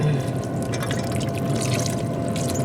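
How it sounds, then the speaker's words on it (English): Water is spritzed onto a pot of chili with celery and bell peppers, a steady close hissing spray and liquid patter running without pause. "I'm just using a little water. We're going to spritz that up a little bit."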